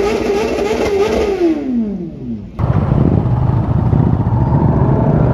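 Motorcycle engines rev loudly as a group ride gets underway, one bike's pitch climbing and falling in a sweeping rev before a dense, sustained roar of several engines takes over close by.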